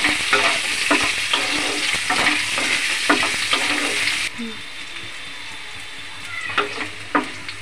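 Long-cut potato sticks fry in hot oil while a spatula stirs them, a loud, busy sizzle broken by regular scraping strokes, easing to a quieter bubbling with a few sharp scrapes.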